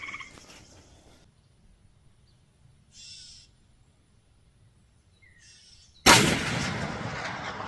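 A .450 Bushmaster rifle fires at a 500-yard steel plate, one sharp loud blast near the end after several seconds of quiet outdoor hush with faint distant sounds.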